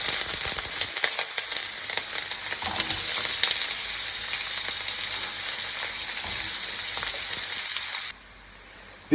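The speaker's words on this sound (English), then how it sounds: "on a very hot wok, add your onions and give them a little head start." Onions frying in a very hot wok, with a loud, continuous hiss and crackle that suddenly drops away near the end.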